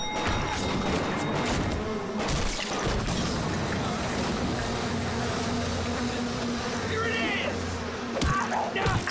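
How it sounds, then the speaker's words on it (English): Swarming bees drone in the video game Bioshock, a continuous buzzing hum laid under chaotic game action with occasional crashes and thuds, while a voice talks over it. "We got bees."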